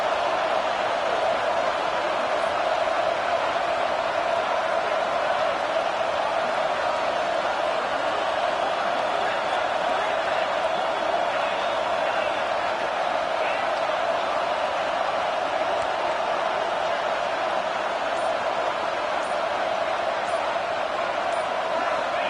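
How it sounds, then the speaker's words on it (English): Dense, steady roar of a packed football stadium crowd, loud and continuous throughout with no individual voices standing out. "listen to this crowd noise. This stadium is vibrating."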